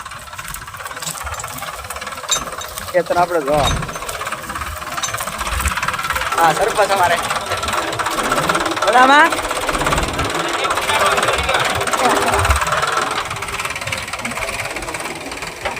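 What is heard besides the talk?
tractor engine running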